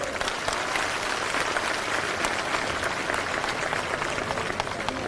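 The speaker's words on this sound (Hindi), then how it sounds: "एक बार जोरदार तालियां हमारे सभी बड़े बुजुर्गों के लिए।" Crowd applause at a Bahujan Samaj Party political rally in Rewa, honouring the elders present: dense, continuous clapping from many hands, steady and fairly close, filling the whole stretch with no talk over it.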